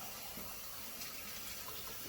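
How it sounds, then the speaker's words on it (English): A cup of water poured into a pot of pork and bacon cabbage rolls, a steady, soft gushing splash, faint and continuous with no talking. "a cup of water, put it in there just to loosen it up a little bit"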